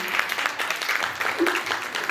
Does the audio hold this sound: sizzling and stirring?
no